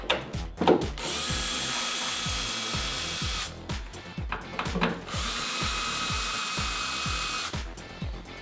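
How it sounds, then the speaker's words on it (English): Power screwdriver backing out two screws from a 2016-2018 Chevrolet Silverado 1500 tail light, close and loud: two long steady whines separated by clicks, ratcheting rattles and handling knocks, with no talking. "Just unscrew these 2 screws."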